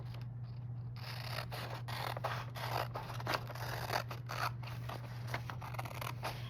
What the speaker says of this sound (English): I'm going to take my scissors and I'm going to cut around the object and along that line